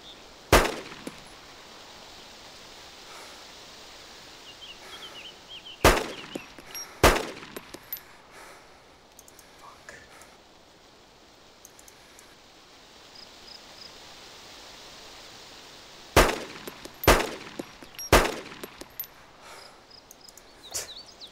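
Gunfire in Arma 2 DayZ comes as sharp, loud single shots and short clusters: one early, a pair around six to seven seconds, then a rapid burst of four near the end, over quiet wind-like background.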